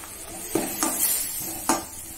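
Onion and masala mixture for Indian-style macaroni sautéing in a pan, a soft continuous sizzle with a few distinct stirring scrapes and clinks of the spoon against the pan, close and moderately quiet, no talking.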